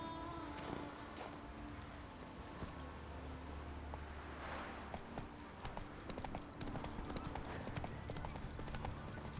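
Hooves of Roach, a horse in a video game, clip-clop in a steady walking rhythm, with occasional jingling tack and a soft low rumble underneath.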